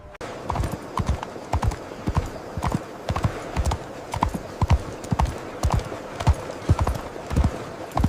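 Horse hooves clip-clopping at a steady walking pace, loud and close, a regular rhythm of sharp knocks continuing throughout, heard on their own without voices.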